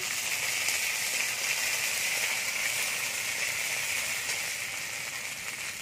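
Panch phoron five-spice, dried red chillies and bay leaves sizzle as they temper in hot oil, a steady, bright crackling hiss holding evenly close to the pan for several seconds with no voices over it.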